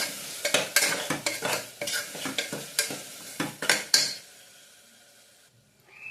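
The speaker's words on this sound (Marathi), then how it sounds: "हलवून घ्यायचं आपल्याला." A spoon stirs vegetable pulao with salt and yogurt in a pot, making a run of close, rhythmic scraping and clinking strokes with a soft sizzle, then the stirring stops and the pot goes almost quiet.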